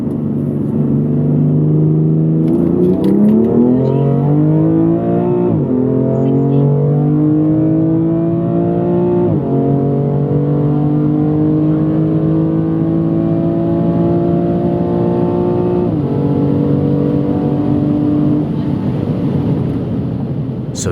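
A 2019 BMW M2 Competition accelerates hard with its 7-speed dual-clutch gearbox in automatic, the loud engine note climbing steadily and dropping briefly at each of four quick upshifts.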